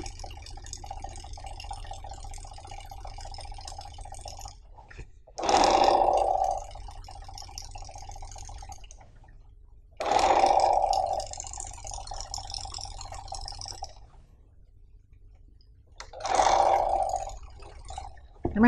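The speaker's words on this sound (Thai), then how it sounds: "เราเริ่มเย็บเลยค่ะ" Domestic sewing machine stitching a long garment seam with backstitching at the start, heard as a few separate bursts of steady mechanical whirring between quieter pauses.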